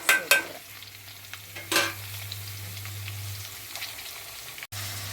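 Four long-sliced onions sautéed with salt in a pan for prawn biryani: a few sharp utensil clatters at the start, then a soft, steady sizzle over a low, constant hum.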